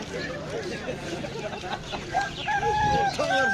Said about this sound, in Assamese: লোকেল মুৰ্গী